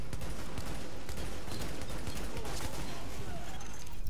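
Heavy gunfire from a rooftop gunner in The Division, a dense continuous rattle of shots with a voice speaking under it throughout.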